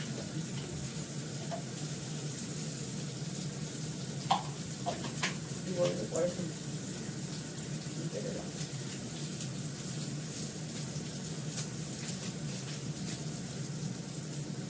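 Nigella seeds and Kashmiri chilli powder sizzle softly in hot oil, a faint steady frying hiss with a few small clicks, while a voice talks over it.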